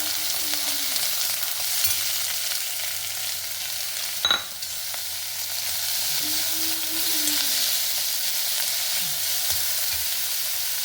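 Onions fry in oil with mustard seeds in a pan, a steady close sizzle with occasional stirring scrapes and one sharp clink.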